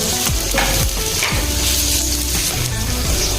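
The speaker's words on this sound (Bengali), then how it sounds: "তেল গরম হয়ে গেছে, এর উপর আমি দিয়ে দেবো কুচিয়ে রাখা পেঁয়াজ। পেঁয়াজটাকে আমি একটু নেড়ে নেব।" Chopped onion sizzles loudly in hot oil, with repeated scraping strokes of a spatula stirring it around the pan over a constant, close frying hiss.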